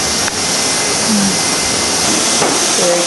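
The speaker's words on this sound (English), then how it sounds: "There he goes again, trying to grab the vacuum cleaner." A vacuum cleaner runs close by with a loud, steady broadband roar and hiss that lasts the whole stretch. A few faint knocks break through it, and nobody speaks.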